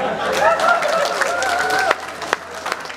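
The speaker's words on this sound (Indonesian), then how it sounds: "Tepuk tangan saudara." Audience clapping at a national student consultation gathering, dense applause under a speaker's voice at first, thinning toward scattered individual claps at the end.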